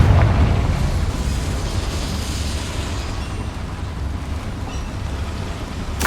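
Confringo spell explosion in Hogwarts Legacy, opening with a sharp blast that rolls into a sustained rumbling, crackling wash fading gradually, loud and alone without talking.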